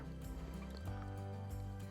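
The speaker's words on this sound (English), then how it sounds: "And then now I'm going to pour in my chicken stock." Chicken stock poured into a pot of tomato sauce for a large family meal, a steady continuous liquid stream with dribbling and dripping, close and moderately loud, no talking.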